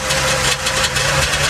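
A Trabant car engine runs close by, a steady rough two-stroke idle with a low throbbing drone and no voices.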